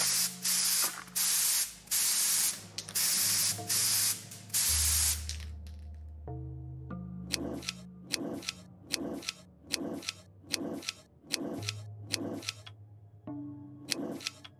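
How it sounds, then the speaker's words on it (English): Spray paint hisses from a can in the video game Fear For Sale: House on Black River, first as several loud bursts, then a rhythmic series of clicking, ticking sounds. "Well, now I have spray paint,"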